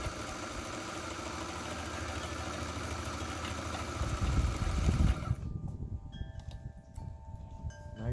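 A New Home Double Duty sewing machine runs a zigzag stitch, a steady close mechanical whir with rhythmic needle clatter that swells briefly before stopping and leaving faint ticks and clicks.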